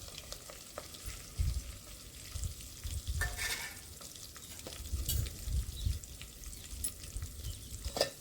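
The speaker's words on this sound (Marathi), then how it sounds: "तर आपल्याला परतून घ्यायचं आहे" Onions with curry leaves sizzle and fry in a pan over a wood-fired clay stove for masala rice, a steady close crackle broken by scraping stirs of a spoon, with no voices.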